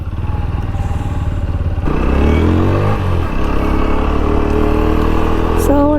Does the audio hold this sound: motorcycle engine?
yes